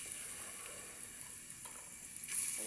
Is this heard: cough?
no